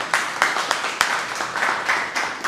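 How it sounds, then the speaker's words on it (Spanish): Scattered claps from a small classroom audience, a few distinct hand strikes building into a brief, light patter that rises and falls over a couple of seconds. "Un aplauso."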